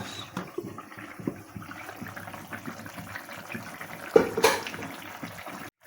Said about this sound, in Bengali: জল ঢেলে দেব। এখন জল দিব।